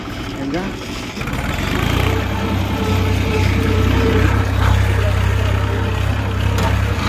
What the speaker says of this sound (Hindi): ये ट्रैक्टर है